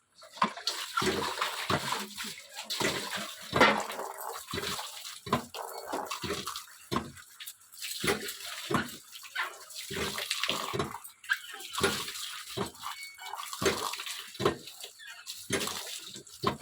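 Taro leaves and a kitchen blade are rinsed under running water, with splashing and sloshing that come in repeated bursts and pauses close by and no voices.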